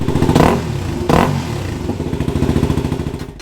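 Stock Yamaha WR250R motorcycle idling with two sharp throttle blips near the start, then settling into a steady, close, pulsing exhaust putter with no voices.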